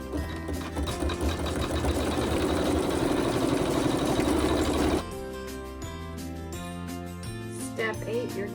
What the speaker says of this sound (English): the machine will sew a satin stitch